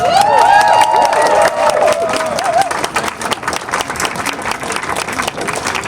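A crowd at a rally to change the Massachusetts flag and seal cheers and applauds loudly, with shouts and whoops over the clapping early on, then settling into steady applause with scattered voices.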